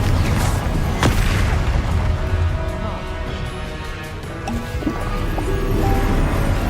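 Confringo fire spells exploding in combat in Hogwarts Legacy, a run of loud booming blasts and crashes over a constant rumble, with a voice calling out over the din.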